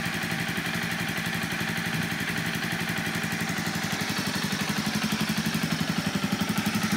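Honda CB300F motorcycle fitted with a Scorpion exhaust and a high-compression piston idles steadily up close, a rapid, even thumping pulse that grows slightly louder toward the end, with no talk.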